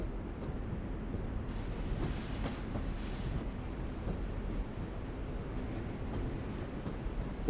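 Steady broadband rumble of a train in The Walking Dead video game, a continuous low rolling noise with wind-like hiss, loud and unbroken throughout with no voices.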